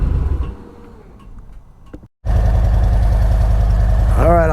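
A Harley Ultra with a Reinhardt full aftermarket exhaust system idles loudly with a deep, steady throbbing rumble, preceded by a quieter stretch and a brief moment of near silence.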